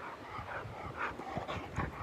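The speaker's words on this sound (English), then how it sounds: "a very excited dog that loves beaches" An excited dog on a Greek beach whimpers, pants and yips in quick bursts over steady surf-like background noise, fairly close and moderately loud.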